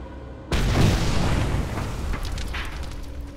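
In the video game Mad Max, a thrown, burning transfer tank explodes with a sudden loud boom, followed by a long rumbling roar and scattered debris crackles that slowly trail off.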